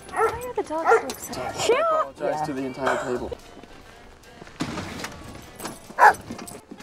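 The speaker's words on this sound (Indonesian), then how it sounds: "ketika para dogi terus menggonggong ke arah bukit" Several dogs bark and yip in short bursts, some whimpering, with a busy mix of voices and movement around them.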